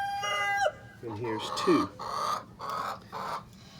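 A small hen clucks in a nesting box, with short harmonic clucks and calls close by while a person talks over them.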